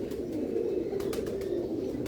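Pigeons coo in a steady, low rolling murmur that carries through the whole stretch, joined by a few faint chirps and a brief flutter, at a Lahore pigeon-flying contest.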